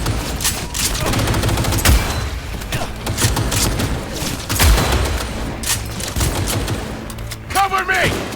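Video game gunfire in Cyberpunk 2077: a dense, loud fusillade of rapid shots and automatic bursts with booming impacts, running continuously throughout.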